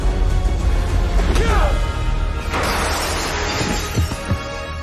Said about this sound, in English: sending him sprawling backwards and into the glass Cobra Kai centerpiece, smashing it to pieces as Terry falls into the wreckage.